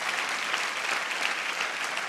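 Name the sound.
congregation applause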